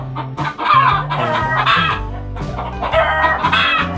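Chickens in a poultry coop cluck loudly and continuously from close by, with overlapping calls and a rooster-like crow rising out of the flock.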